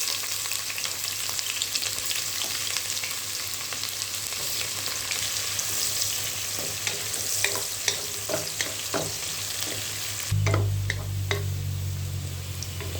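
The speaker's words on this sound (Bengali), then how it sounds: "আমি এখন পেঁয়াজ কুচি দিয়ে দিব।" Chopped onions frying in oil in a home kitchen pan, a steady bright sizzle with occasional crackles and stirring scrapes, a louder burst near the end, no voices.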